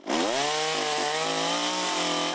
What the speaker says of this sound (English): After strong storms rolled through northwest Houston, chainsaws got busy.